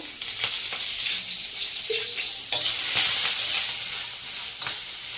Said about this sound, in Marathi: फ्राय करून घ्यायचा मस्त कांदा